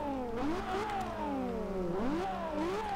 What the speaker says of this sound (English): that V12 is, oh, it sounds so good